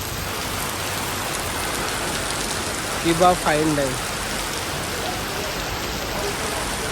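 Steady rain falls outside a fine-dining restaurant in Panvel, a continuous even hiss filling the whole stretch, with a brief burst of voices talking over it near the middle.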